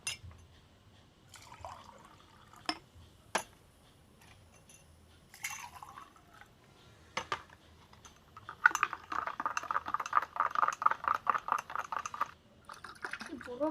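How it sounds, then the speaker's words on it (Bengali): Soda water pours into a glass of lemon juice and sugar, a fizzy, bubbling stream lasting several seconds after scattered clinks and handling sounds. "এবারে দিয়ে দেবো এই সোঁটা জলটা"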